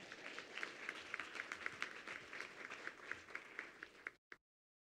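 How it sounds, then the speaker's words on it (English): An audience at a school board of education meeting gives a round of applause for the communications department. The clapping is brisk and even for about four seconds, then cuts off abruptly. "let's give Chris another round of applause in our entire communications department."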